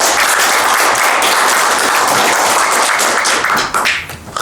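Sustained applause from an audience welcoming an official from the akimat to the stage at a fashion show of modern Kazakh national clothing, dense steady clapping that thins out near the end.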